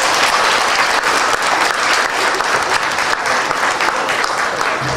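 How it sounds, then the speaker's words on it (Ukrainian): A theatre audience at a dance competition final claps loudly and continuously, a dense, steady wash of applause from a large crowd. "А меценатам ще раз оплески."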